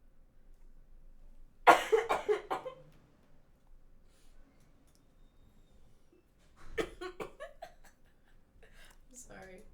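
A person coughs in a short burst of several harsh coughs, fairly close and clear, followed later by some quieter throat sounds and a laugh-like exhale against near silence.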